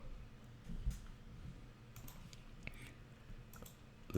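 A computer mouse clicks to launch a setup program, giving a few sparse, quiet, sharp clicks over a faint low background hum.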